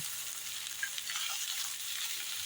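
A ginger, garlic and red chili paste fries in hot oil, giving a soft, steady sizzle and crackle with faint stirring, heard alone and close throughout.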